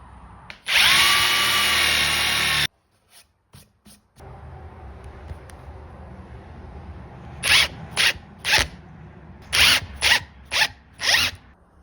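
A power drill with a Toolant countersink bit boring into wood roars loudly and steadily for about two seconds, then stops, followed by clicks and a series of short ratcheting bursts of the drill.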